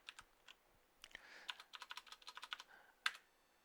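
Typing on a computer keyboard while working through a hacking exercise: quiet, irregular clicks that speed up into a quick flurry of keystrokes, faint and close, with no talking.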